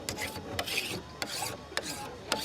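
A hand file rasps the burr off the edge of a chainsaw guide bar in about five short, even strokes, close and fairly quiet, each a gritty scrape.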